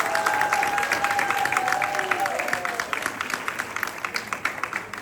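An audience at a Ugadi stage performance of Samudra Manthana gives a steady wash of applause for the child performers, continuous and fairly loud before slowly tapering off.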